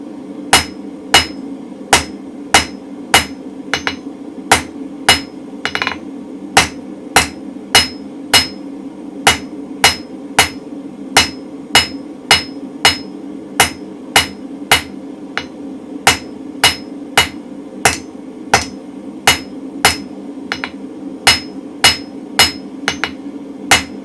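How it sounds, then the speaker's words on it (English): Steady hammer blows ring out on a steel round punch as each of its eight flat faces is planished, a long even series of sharp, close metallic strikes at a regular rhythm over a low background hum. "we're going to planish every single flat face then, all 8 flat faces"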